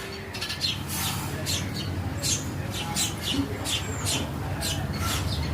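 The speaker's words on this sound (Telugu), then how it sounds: "ఒక్కొక్కటిగా ఇలా మెల్లిగా గుంపులుగా చేరుతున్నాయండి మా ఇంటి దగ్గరికి పిచ్చుకలు." Sparrows near a house give quick bright chirps in a loose, repeated rhythm over a steady background hiss. The calls sound fairly close, and there is no speech.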